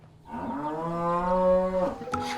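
Dairy cows on a traditional alpine farm where milk goes into raclette cheese; one long, loud, close moo rises and holds before cutting off, with a faint rustle after.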